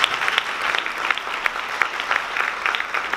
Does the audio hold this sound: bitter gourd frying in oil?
no